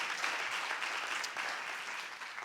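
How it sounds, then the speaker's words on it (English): A convocation crowd at a Founders' Day event applauds for an honored guest, a broad, steady wash of clapping at moderate distance. "Give her a round of applause"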